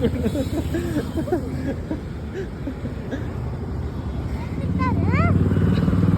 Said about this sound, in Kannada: ಹಿಂಗೆ ರೆಡಿ ಬೈಕ್ ಮೇಲೆ ಕರ್ಕೊಂಡ್ ಬರ್ತೀನಿ